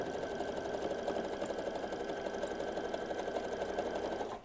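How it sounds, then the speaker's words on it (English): A sewing machine zigzag stitching down the center of bias binding for a non-slip foot pedal pad, running as a steady, fast, even whir at close range with no talking. "notice how I'm stitching it. The zigzag is kind of in the center of the bias binding."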